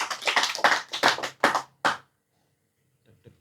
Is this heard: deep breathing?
no